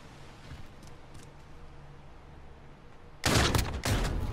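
Burst of video game gunfire from a shooter match, a sudden loud crackling volley near the end after a few seconds of quiet background hum with faint distant pops.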